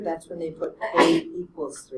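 One quick, close sneeze cuts sharply into an indoor classroom setting, surrounded by ongoing speech from a teacher.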